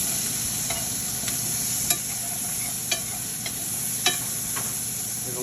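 Onions fry in a pan after beef has been seared for Hungarian goulash, a steady close sizzle punctuated by a handful of crisp scraping taps as the browned bits are stirred up.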